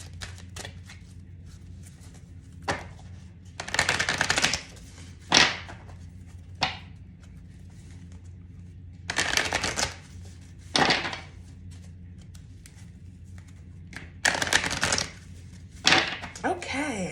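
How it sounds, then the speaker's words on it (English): A deck of Keeper of the Light oracle cards is shuffled by hand in several separate bursts of riffling and sliding, close and crisp, with quiet pauses between them. "every time I shuffle a deck"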